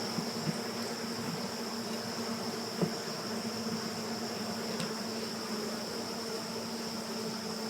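Honey bees hum around open hive frames during the goldenrod flow, a steady soft buzzing drone with a faint high whine throughout and no talking.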